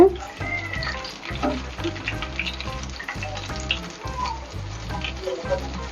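Food sizzles and crackles in hot oil up close, with bursts of popping and bubbling over a low repeating hum.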